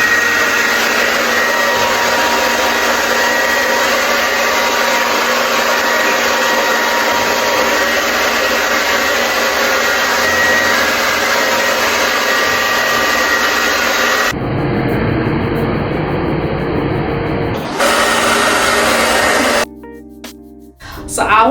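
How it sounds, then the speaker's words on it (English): A hair blow dryer with a diffuser attachment gives a steady, loud blower hum unbroken for most of the clip, then cuts to shorter bursts and rustling handling noises near the end. "you can use a blow dryer and a diffuser attachment"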